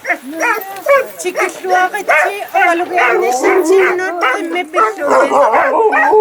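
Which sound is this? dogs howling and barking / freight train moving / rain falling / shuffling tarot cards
dogs howling and barking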